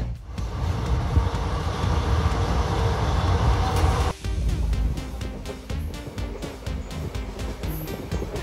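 A passenger train pulls into Kalyan Junction station in the early morning, a steady loud rumble of rolling wheels and carriages with a brief dip midway, followed by rhythmic clacking of wheels over rail joints as it slows.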